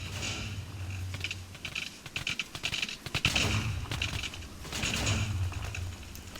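Minecraft TNT blasts crackle in a rapid, uneven burst of sharp pops and booms, clustering loudly in the middle and flaring again toward the end, with no talk over them.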